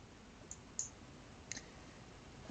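Faint, sharp computer mouse clicks sound one at a time in a quiet room during Photoshop editing, with about three or four light taps spread unevenly.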